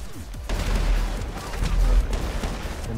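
Barrels explode with heavy booms amid gunfire in GTA 5 Online, a loud, continuous barrage of blasts with a low rumble throughout.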